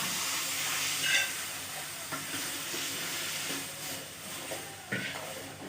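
Egg halwa being stirred in a pan, a soft sizzling hiss with scattered scraping and stirring knocks at an uneven pace, close by and moderately quiet.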